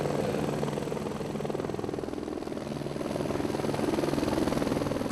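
A small forest aviation helicopter takes off or lands on a pest-control mission over chestnut trees. Its rotor gives a loud, close, continuous pulsing thump with a steady engine roar throughout.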